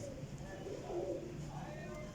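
Kasuri pigeons coo softly in a loft, with low, rounded, repeated coos that are faint and close over a steady background hum.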